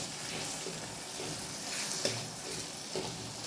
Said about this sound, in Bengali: এই লো ফ্লেমে মশলাটা কষাচ্ছি।